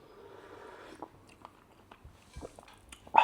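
Someone eats a large raw wild oyster, with soft slurping and wet biting and chewing sounds at close range, scattered clicks and a louder crunchy bite at the end.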